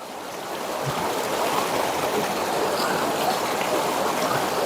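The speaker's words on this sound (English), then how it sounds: "Wash rice till rice clean." Water sloshes and rushes steadily as rice is washed by a river, a continuous close splashing wash with faint soft knocks beneath, no one talking.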